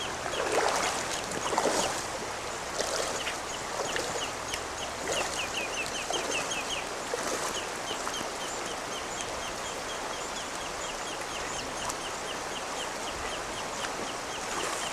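A duck calls with repeated quacking clucks near a small fishing boat on Alaskan water, set against constant outdoor wind and water noise across a long stretch.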